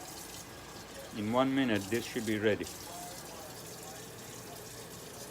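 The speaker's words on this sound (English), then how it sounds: "I'm going to add a little bit more water" Water is poured into a pot of cooking rice, a soft splashing fill heard at low level while a person speaks over it.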